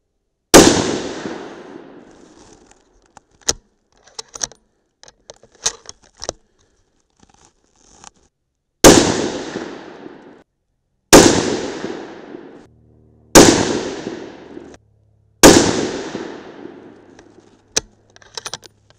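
.308 Winchester rifle loaded with 208-grain Hornady ELD bullets over Hodgdon Varget fires five loud, sharp shots with long ringing decays, spaced a few seconds apart, with small metallic clicks of the action between them.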